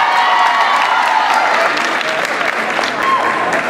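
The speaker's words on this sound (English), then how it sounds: "Give a great round of applause." Sustained applause from an audience at a district cheerleading awards ceremony, steady and loud throughout with faint crowd noise and cheering mixed in.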